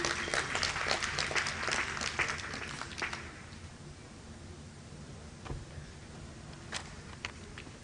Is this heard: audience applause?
yes